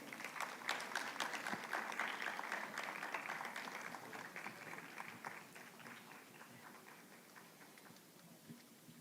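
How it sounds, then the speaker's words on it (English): Audience applause at a Youth-20 consultation ceremony at Symbiosis University in Pune, a roomful of hands clapping steadily and then thinning out over about nine seconds, heard faint and somewhat distant. "A round of applause, please."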